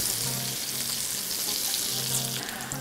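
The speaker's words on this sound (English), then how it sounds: "My potatoes are sizzling away." Potatoes sizzle steadily in hot oil, a dense continuous frying hiss, close and fairly loud.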